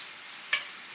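Onion pakoda frying in hot oil gives a brief, steady bright sizzle with a single sharp pop midway.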